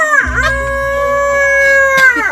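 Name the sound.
man imitating a rooster crowing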